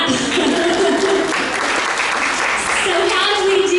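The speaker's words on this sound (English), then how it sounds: "that deserves a clap." Audience at a talk on positive aging clapping, sustained applause filling the room while a voice speaks over it.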